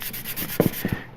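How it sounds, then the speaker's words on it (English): Sanding a part for a 1/8 scale Black Moth Heavy model kit by Industria Mechanika, heard as short close scratchy strokes, two quick pairs of rubs over a faint background hiss. "Sand it out."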